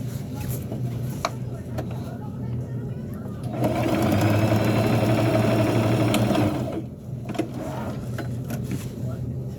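A sewing machine runs in one steady burst of about three seconds, stitching the shoulder seam of a burial gown, with quieter room noise and handling before and after.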